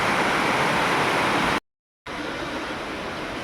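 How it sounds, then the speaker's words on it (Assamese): Sudden heavy rain pouring just outside a veranda, a dense, steady broadband hiss heard close, cut by a brief silent gap before the downpour resumes at the same strength. "ছাডেনলি ডাইৰেক্ট বৰষুণ পেলাইছে।"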